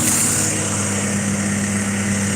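A Honda Prelude engine idles steadily with an even, continuous hum, heard close and alone throughout.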